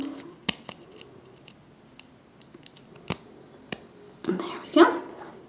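Wire cutters trim the wrapped wire on a cabochon pendant in a series of sharp, isolated snips and clicks that stay close and fairly quiet, with soft handling noise near the end.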